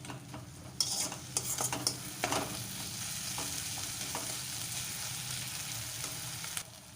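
Spice paste for egg curry stirred and sautéed in a hot pan, a steady close sizzle broken by scraping spatula strokes throughout, with no voices.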